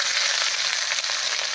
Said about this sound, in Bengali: এর উপরে দিয়ে দিচ্ছি একটা পেঁয়াজ কুচি